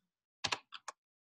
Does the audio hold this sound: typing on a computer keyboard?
yes